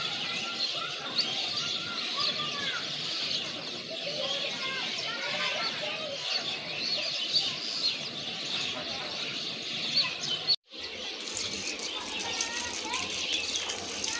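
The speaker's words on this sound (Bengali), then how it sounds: "ওদিকে ওই বিল্ডিংটার রটের উপরে সব পাখিগুলো একসাথে হয়েছে, সব পাখি একসাথে হয়েছে আর কিচিমিচি ডাক" A flock of birds gathered on a building roof chirps together in a dense, continuous twittering heard from some distance, broken by a brief cut partway through before the chatter carries on.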